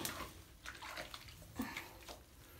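Running shower water while a dachshund is bathed in a home bathroom, a steady soft hiss with a few sloshes and splashes, faint and close.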